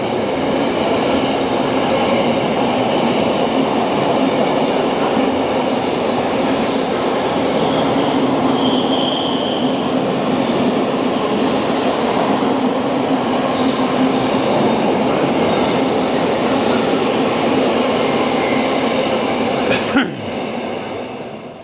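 A train rumbles past steadily and loudly for the whole stretch, with a sharp metallic clank near the end and no talking.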